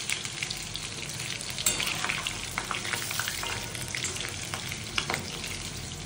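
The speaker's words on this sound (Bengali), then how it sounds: "লাল করে ভাজবো।" Fish chunks frying in oil until browned, a steady crackling sizzle with scattered sharper pops and spatters, close and continuous without talk.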